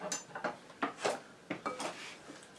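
Parsley tossed into a salad in a bowl, giving a run of clinks and scrapes from utensils against the dish in short bursts, close and fairly soft, with no talking.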